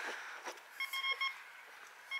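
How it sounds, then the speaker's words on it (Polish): Metal detector on a beach giving a string of short, thin electronic beeps, several in quick succession, over wind and surf hiss. "co tam Krzysiu za sygnałki ma"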